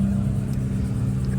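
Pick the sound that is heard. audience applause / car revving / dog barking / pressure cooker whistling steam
car revving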